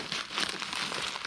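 Foam packaging wrap being pulled open from a taped parcel, a quiet, close, continuous crinkling and rustling lasting just over a second, with no talk.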